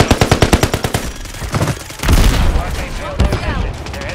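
Rapid automatic gunfire in the Call of Duty video game, a fast burst of close shots followed by further scattered shots and explosive booms, with players talking over it.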